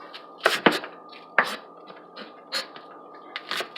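A knife chops spring onion on a board, with irregular crisp thuds in short clusters, close and fairly loud over a low steady hum.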